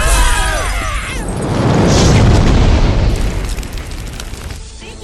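A bomb goes off in a comedy film scene, a loud deep boom that swells into a long rumbling roar and slowly fades, with debris-like crackle in the tail.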